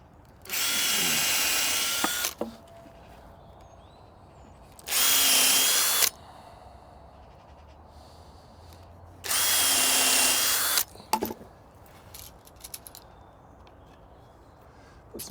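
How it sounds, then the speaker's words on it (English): Three separate bursts of a loud power drill whirring into pallet wood, pre-drilling for screws, each lasting a second or two, with quiet pauses and small handling noises between. "Just going to pre-drill that."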